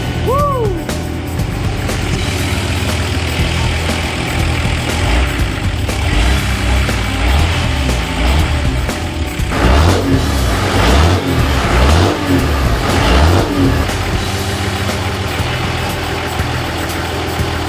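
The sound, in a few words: old Toyota 2H diesel engine running after start-up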